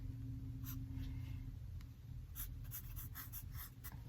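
A pencil scratches across paper while drawing a cat's tail with a fluffy tip, making a steady run of soft, close strokes and light scribbles with a faint low hum underneath.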